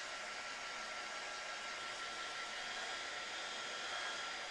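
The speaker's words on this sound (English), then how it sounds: "Does this hairdryer sound really annoying as you're watching it back?" A hair dryer blows steadily to dry a watercolour painting, a constant loud rushing whoosh with no change across the whole stretch and no voices.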